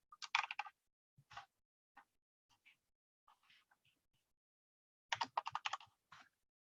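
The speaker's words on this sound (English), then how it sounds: "I was just typing back to him." Bursts of rapid typing on a computer keyboard, quick clicking clusters at the start and end with sparse taps and a soft whispery voice between them, close and quiet.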